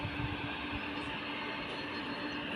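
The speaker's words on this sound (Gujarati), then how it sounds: "અમારી બાજુમાં ટ્રેન જાય છે ધીરે ધીરે" A steady low rumble and rolling rail noise from a slow-moving train nearby, even and continuous throughout.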